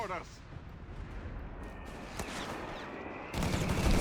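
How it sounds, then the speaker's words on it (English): Mortar and machine gun fire in the video game Company of Heroes 3 come as bursts of battle noise, with rattling fire and heavier thumps rising louder toward the end. "A lot of mortar fire here."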